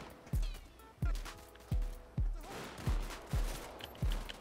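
Gunfire in GTA 5 with a gangs and turfs mod: seven heavy, booming shots at a steady pace about every two-thirds of a second, each ending in a brief decay, with faint game noise between them.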